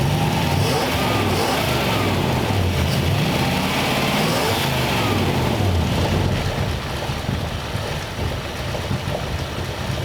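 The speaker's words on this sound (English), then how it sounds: "This engine's so quiet, it is insane." A 1934 Ford Tudor engine with partly clogged mufflers runs close by with a loud, rough, steady rumble, rising and falling in a few revs before settling back to idle.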